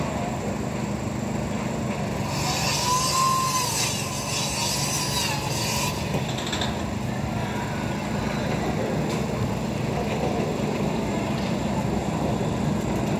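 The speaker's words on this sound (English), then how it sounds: "So they're slicing wood to put one of the parts for the concrete to make it secure." Steady, loud sawing through wood at a theme park ride construction site, a continuous rasping drone running throughout with faint distant site noise and no speech.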